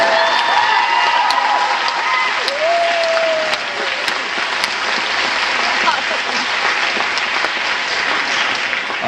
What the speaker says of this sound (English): round of applause for the great Rob Whedon